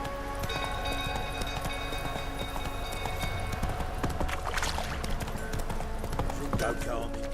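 Horse hooves clip-clop at a steady run in The Witcher 3 video game as a stable burns, a continuous rhythmic beat under game music and voices.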